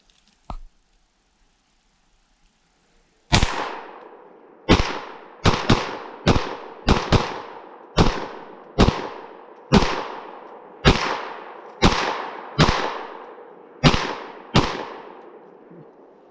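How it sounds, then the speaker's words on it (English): Gunshots from a CMMG Banshee 9mm at a shooting range: after a few quiet seconds, about a dozen sharp, loud reports, single and in quick pairs, at irregular intervals, each with a short decaying tail. "we finally got out to the range with our neat little CmmG Banshee in 9mm"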